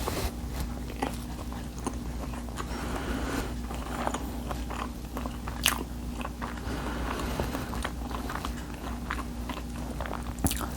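Someone bites into and chews a soft homemade blueberry waffle, with close, steady crunching and mastication sounds and a few sharper bites over a constant low background hum.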